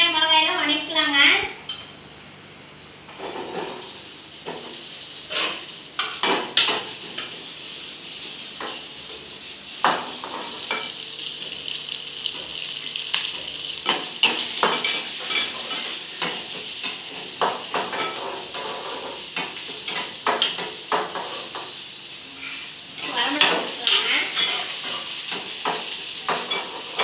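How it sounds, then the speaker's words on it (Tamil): Onions and dried red chillies sauté in a pan, with a continuous frying sizzle and frequent metallic clinks and scrapes of a spoon against the pan throughout. "வணக்கி வெங்காயம் மிளகாயெல்லாம் வணக்கலாங்க"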